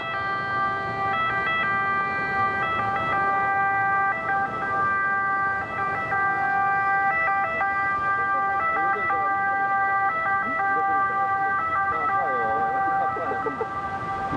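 Ambulance sirens wail near a hospital in Rome, a loud repeating two-tone siren that cycles steadily for many seconds over street noise and traffic.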